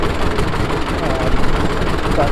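Vintage Hart-Parr tractor engine running steadily, a dense, rough low rumble with a continuous chugging texture, close and loud throughout while someone talks over it.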